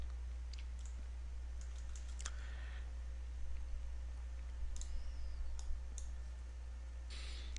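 Sparse mouse clicks while testing an Android app on a computer, a few quiet sharp clicks and brief clusters of ticks over a steady low electrical hum, with no voices.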